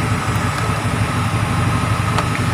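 Car air-conditioning compressor wired direct so it runs nonstop with no cut-off, giving a steady mid-low engine-like drone with constant vibration throughout, no pauses or cycling.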